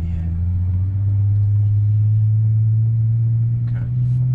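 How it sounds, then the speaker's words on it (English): Cheap V12 car pulling away very gently, a loud, smooth low engine hum that rises slightly in pitch and holds steady, heard from inside the cabin with talk over it. "I'm going to try and accelerate extremely gently here"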